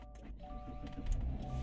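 A car engine turns over and catches after its old battery was restored with a Noco Genius 5 charger, settling into a steady low idle hum with faint mechanical whine, no talking.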